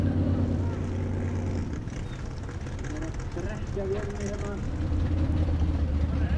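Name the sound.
off-road car engine running while sinking in river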